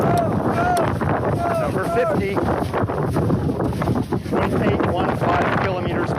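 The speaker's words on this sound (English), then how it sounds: "It's pretty windy." Strong Arctic wind buffets the microphone at the North Pole during a marathon, a steady roar running through the whole stretch beneath close, continuous talking.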